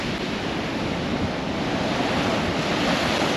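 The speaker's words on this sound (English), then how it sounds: "The tide's definitely coming. I keep stepping backwards and when you get a big wave that comes up." Sea surf rolls onto the beach at Anderby Creek as the tide comes in, a constant loud broadband wash of breaking waves heavily buffeted by wind against the microphone, with no voices.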